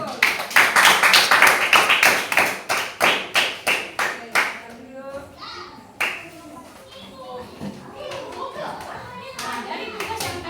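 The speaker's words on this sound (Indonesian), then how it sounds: "Tepuk tangan dulu untuk kelompok 1." Classroom applause for a group's class presentation, a burst of many hands clapping in loud rapid rhythm that fades out by the middle, followed by children's chatter and scattered taps.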